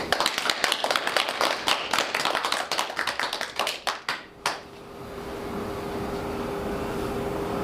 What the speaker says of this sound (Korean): 하늘에서 더 평안하시고 대한민국 잘 지켜달라고 박수 한번 쳐주십시오.